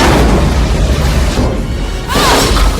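A big movie explosion booms loud and close, a sustained rumbling blast with debris and a whooshing sweep near the end, in a clip from the film Independence Day.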